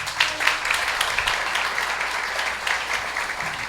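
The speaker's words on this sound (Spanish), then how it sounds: "la iglesia les recibe con un fuerte aplauso" Church congregation applauding steadily, a soft, even wash of many hands clapping at moderate distance with no break.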